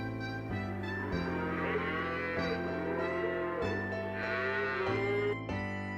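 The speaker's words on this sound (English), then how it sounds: "Cow." A cow moos in several long, low, drawn-out calls in close succession, clear and alone with no voices.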